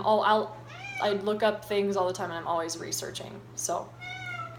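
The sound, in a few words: cat meowing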